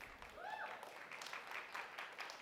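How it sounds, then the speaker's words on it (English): An audience at a MongoDB and Spring Framework conference talk claps from the left side of the room: a brief, faint patter of applause with a voice heard early on. "Let's see the applause from the left side of the room."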